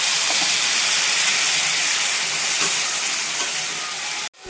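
Spices sizzle loudly in a hot pan as a little water hits them, a dense steady hiss and fry lasting about four seconds before cutting off abruptly. The dish is paneer with potatoes.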